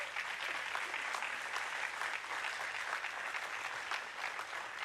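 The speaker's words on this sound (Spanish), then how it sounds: "Un aplauso al Rey de Gloria" A church congregation at a Baptist service claps together, a dense, even wash of many hands sustained for about five seconds, fairly soft and heard from some distance.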